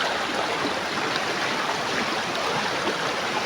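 A strong river current rushes past close by, a dense, unbroken roar of churning water filling the whole stretch with no voices.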